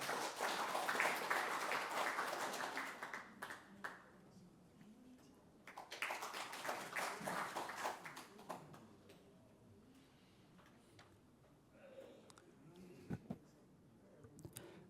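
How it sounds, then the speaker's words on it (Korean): Audience applause welcoming a speaker at a 40th-anniversary commemorative ceremony, a soft, distant patter of many hands that swells, fades, then returns more sparsely with a few isolated claps. "황운하 의원님 환영의 박수 부탁드리겠습니다"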